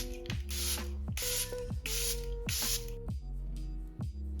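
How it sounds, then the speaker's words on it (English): Charlotte Tilbury Airbrush Flawless setting spray hisses out in five quick, close bursts, then fainter puffs follow, all set over a steady musical backing. "I'm going to take my Charlotte Tilbury Airbrush Flawless Setting Spray."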